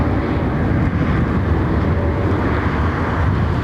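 An IndiGo airliner departs London Heathrow, its engines a loud, steady, broad roar with wind rumble filling the whole stretch, without voices.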